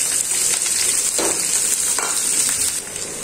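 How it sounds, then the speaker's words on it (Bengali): Chopped green chillies, onion and garlic hit hot oil together in a pan, making a loud, continuous hissing sizzle close by with brief stirring scrapes, easing slightly at the end. "দিয়ে দিচ্ছি তেল, এখানে কাঁচামরিচ কাটা, পেঁয়াজ কাটা, রসুন কাটা, মানে সব একসাথে ঢেলে দিচ্ছি।"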